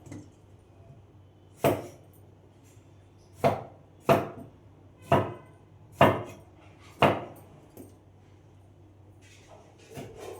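A knife chopping vegetables on a board, about nine distinct, sharp cuts spaced roughly a second apart in an uneven rhythm, close and clear against a quiet room with no talking.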